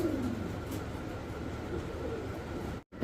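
Pigeons kept for sale at a pigeon sale center coo softly in low, rolling calls amid a steady background hum, close by.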